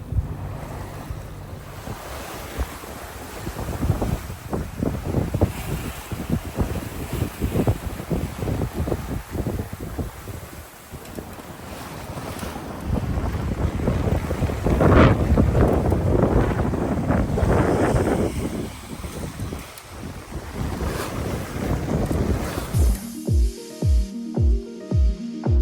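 Sailboat running under mainsail with its engine assisting, heading down toward the southern tip of La Palma in the Canary Islands: steady wind rush and broad water wash throughout, swelling louder midway, with a rhythmic low thumping near the end.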